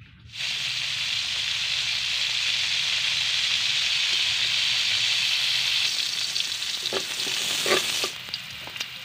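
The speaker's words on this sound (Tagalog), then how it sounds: "Ito lang yung ating panggigisa, guys" Ingredients sauté in a hot pan with a loud, steady sizzle that lasts throughout, and a few clinks of stirring near the end.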